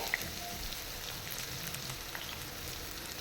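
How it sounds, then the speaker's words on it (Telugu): Sliced onions sizzling in hot oil for a fish dum biryani, making a steady, soft crackling hiss with occasional small pops and no talking. "ఆయిల్ వేడైపోయిందండి ఇప్పుడు ఆనియన్స్ వేసుకోవాలి"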